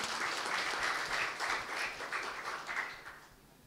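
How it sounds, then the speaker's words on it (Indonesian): Audience applause at a computer science faculty graduation ceremony, honouring a foundation treasurer; a steady wash of many hands clapping, moderately quiet, tapering off toward the end. "Tepuk tangan mungkin buat beliau."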